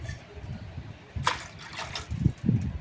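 Water poured from a measuring glass into rice for Telangana-style bagara rice, a soft splashing gush rising in two or three bursts close by, with a faint low background rumble.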